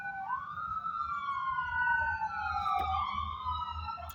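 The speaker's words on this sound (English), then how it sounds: "Did you hear all these sirens?" Police sirens wail in the distance, several overlapping tones sweeping slowly up and down together over a low traffic rumble, fairly faint but clear for the whole stretch.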